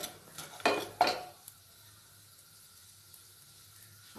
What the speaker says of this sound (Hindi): हल्के ब्राउन हम भून लेंगे काजू को